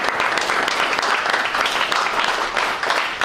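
An audience applauds after a presentation at a question-and-answer session, a dense, steady clapping that holds at an even level for about three seconds with no talk over it.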